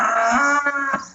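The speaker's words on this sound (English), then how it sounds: "A couple calves in here after them and cows after them." Cattle mooing up close, a drawn-out low call from a cow or calf with a short second low grunt near the end, loud and clear with no talking.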